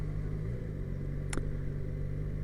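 A Yamaha XJ6F motorcycle being ridden, heard as a steady, low, moderately loud engine drone mixed with wind rush, holding constant throughout, with one brief sharp click partway through.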